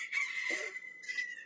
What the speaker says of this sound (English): That's a chicken noise!